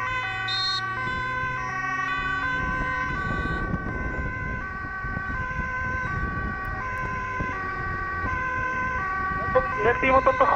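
A Dutch ambulance siren under police escort wails loudly and continuously, its tones sliding up and down over traffic noise as it passes close by.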